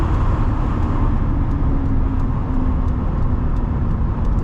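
1999 Chevy Silverado Z-71 regular cab truck accelerating after a downshift, a loud, steady engine and road drone heard from inside the cab with no talking.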